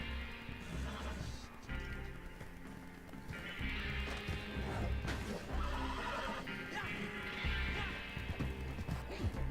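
In an Xbox video game, a horse neighs and whinnies several times over busy game sounds and music, with hoof clatter mixed in. The sound is moderately loud and rises and falls across the stretch.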